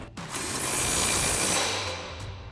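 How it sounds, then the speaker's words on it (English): Impact wrench with a 21mm socket tightening the lower shock bolt on a RAM 1500 during a rear spacer lift install, one sustained loud close buzzing whir lasting a couple of seconds, with no talking. "Grab our impact with our 21mm socket and 21mm wrench,"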